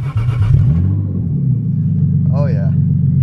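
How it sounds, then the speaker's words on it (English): A BMW E30 fitted with an M50 engine idles with no exhaust, a loud, raw, deep rumble close by with a brief voice cutting in partway through. "The last time we will have to hear this thing with no exhaust."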